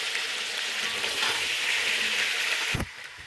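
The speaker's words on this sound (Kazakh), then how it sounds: "Етті 10 минут қуырамыз." Meat frying with garlic in a pan for a Kazakh-style soup, a steady close sizzle and crackle that cuts off sharply near the end with a brief low thump.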